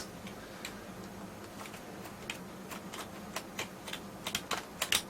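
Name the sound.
computer keyboard keys being pressed on an IBM PS1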